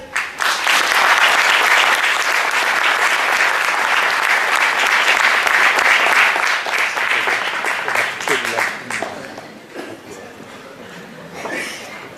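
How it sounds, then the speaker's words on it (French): Loud, sustained applause from a large audience at a 2017 Paris tournament presentation, steady dense clapping for about nine seconds, then thinning out, with a brief renewed burst near the end. "Je vous demande d'applaudir très très fort Kamela Selfie."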